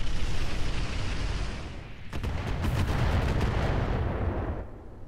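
Artillery barrage in the video game Roguetech: a continuous loud rumble of heavy blasts that swells into a dense volley of sharp impacts midway, then fades toward the end, with no talking.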